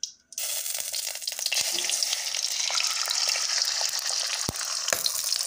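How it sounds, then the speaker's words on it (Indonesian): Beaten egg omelette mixed with a little water frying in a hot pan, a steady loud sizzle and crackle that starts abruptly and continues, with a few small clinks of a utensil. "Oke teman-teman, sekarang kita saatnya menggoreng ya."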